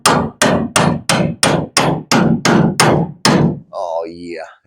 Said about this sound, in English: Just take a hammer and cram that damn thing in there